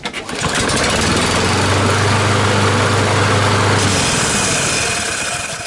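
Kohler 149cc XT engine on a Lawn-Boy mower runs loud and steady after a quick start, a rough, rattling drone from a flywheel that isn't smooth, close up with no talk.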